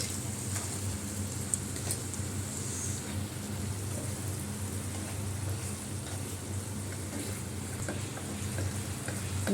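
Green peas frying in a kadai, giving a soft, even sizzle with faint stirring scrapes running steadily throughout, with no talk.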